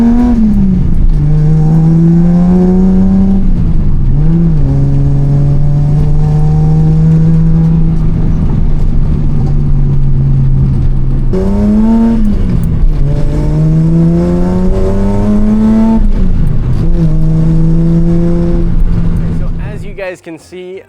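A Datsun 280Z engine running FAST EZ EFI fuel injection drones steadily while driving, rising and falling through several throttle changes and gear shifts. It stays loud and close throughout, with a voice heard over it.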